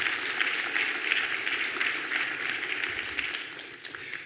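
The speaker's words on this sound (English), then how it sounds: "Could we give them a round of applause?" A room of attendees at a chancellor's retreat keynote gives a committee a round of applause, steady moderate clapping spread through the hall, continuing evenly with one sharper clap near the end.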